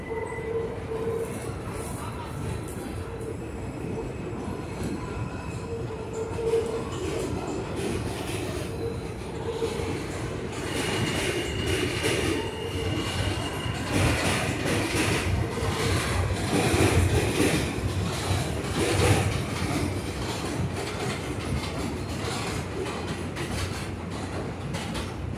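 An R160 subway train on the L line pulls out of Broadway Junction, a steady loud rumble of wheels and motors rolling along the tracks that swells toward the middle and holds to the end, with no talking.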